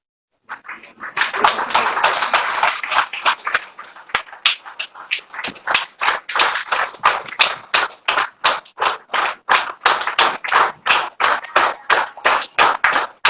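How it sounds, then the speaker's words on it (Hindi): An audience applauds at a Kargil Vijay Diwas program in Ranchi. A burst of loose clapping settles into loud, rhythmic claps in unison that continue steadily to the end. "हाँ आपकी तालियां"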